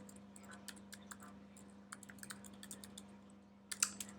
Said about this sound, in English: Now let's go and type in Joe blogs, give him my email